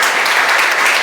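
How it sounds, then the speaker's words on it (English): A dense burst of applause from an audience after a panel discussion, many hands clapping at once, loud and continuous through the short moment. "So I invite you all now to give the panel a round of applause."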